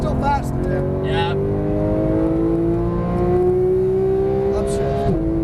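Porsche 911 GT3 (991) on a race track, its engine climbing steadily in pitch under throttle with a strong continuous howl and a brief dip near the end, close and loud, while an instructor speaks over it.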